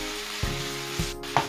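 Beef strips hit hot oil in a frying pan for Peruvian lomo saltado, giving a steady close sizzle broken by a few sharp knocks and scrapes of a ladle spreading the meat.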